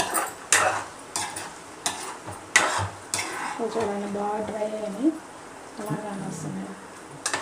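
Spice paste and pieces sauté in a pan with a soft sizzle, broken by repeated sharp scrapes and clinks of a spoon stirring against the metal, while a voice talks over the cooking.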